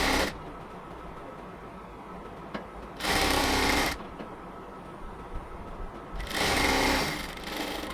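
A sewing machine runs in two loud bursts of about a second each, stitching the doubled-over sleeve border of a yellow cotton dress, with quieter pauses between them.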